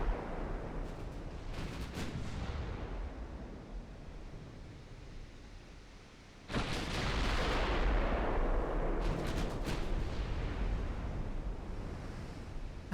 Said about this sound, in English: Main gun fire.